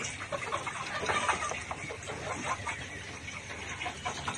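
A flock of layer pullet hens, about 92 days old, cluck and chatter throughout, a dense flock sound with no single bird standing out, steady and moderately loud.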